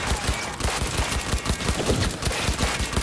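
Rapid assault rifle gunfire in the shooter game Cyberpunk 2077, loud sharp shots in fast repeated bursts that pound steadily throughout with little pause.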